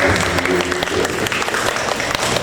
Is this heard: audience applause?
yes